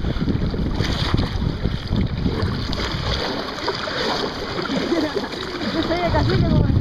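Water splashes and sloshes against a small boat amid heavy wind buffeting, a loud continuous roar with someone talking excitedly over it.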